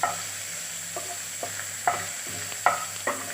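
Crushed garlic fries lightly in a pot for chicken stew, a soft steady sizzle broken by several sharp clinks and scrapes of a stirring spoon.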